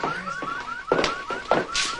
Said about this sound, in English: That's the alarm in Stanton's office